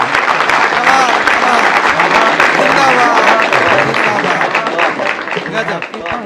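An audience at a Hindi poetry recital claps warmly, a loud, dense, continuous applause from many hands that holds steady and then eases slightly toward the end.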